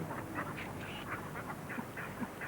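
Ducks quack repeatedly in short, scattered calls beside open water in the Ribble Valley, Lancashire, over a constant outdoor background hiss.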